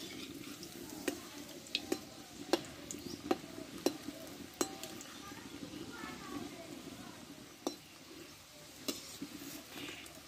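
Bread snacks fry in hot oil after being flipped, a soft steady sizzle with a series of faint clicks and taps from the utensil, while quiet talk runs underneath.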